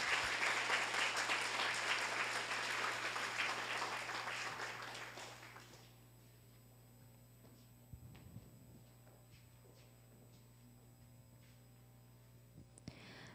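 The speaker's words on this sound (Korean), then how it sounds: "큰 박수 부탁드립니다." Audience applause fills a hall at a university award ceremony, dense clapping that fades out after about five seconds, leaving a low steady hum and scattered faint knocks and shuffles.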